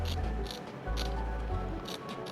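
Scissors cut through packing material while unboxing a Nosfet Aero electric unicycle, giving a few short, close snips spaced out over a couple of seconds with steady low background hum.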